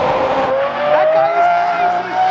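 A Lamborghini Aventador Roadster's engine revs loud and close, a continuous rising, high-pitched roar that holds for the whole stretch with no voices over it.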